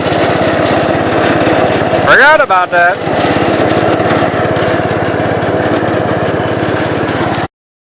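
A riding lawn tractor engine idles steadily and close throughout, with someone speaking over it and a short burst of louder mechanical noise partway through.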